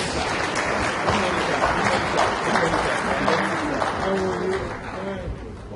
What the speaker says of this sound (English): Give him another good round of applause.